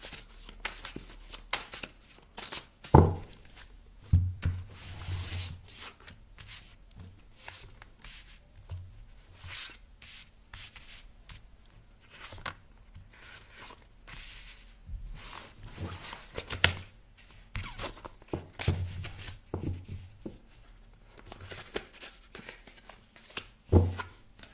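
Tarot cards are shuffled and drawn at close range: soft riffling, slapping and sliding bursts scattered irregularly over a quiet room.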